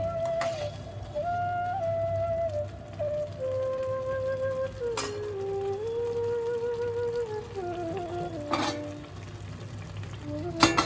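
Pulao (pushpanna, Bengali bhog rice) stirred gently in a pot, giving a soft steady sizzle with occasional scraping strokes, overlaid by a sustained tonal whine that wavers in pitch throughout; no talking.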